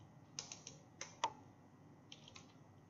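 Keys clatter on a computer keyboard in short, uneven bursts of crisp clicks with pauses between them, quiet and close in an otherwise still room.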